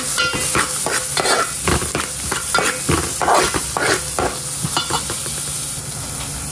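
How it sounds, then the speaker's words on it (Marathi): Onions sautéing in a pan for pav bhaji, a loud continuous sizzle broken by repeated scraping and stirring strokes of a spatula, with no voices. "कांदा छान असा परतवून घेऊया आपण"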